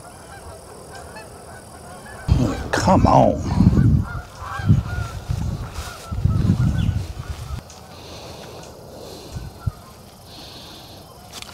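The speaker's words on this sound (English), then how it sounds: "I don't know if y'all can hear them geese, but boy, they're really honking this morning." Geese honking loudly and repeatedly on a morning outdoors, a chorus of calls rising in bursts close by, with someone briefly speaking over them.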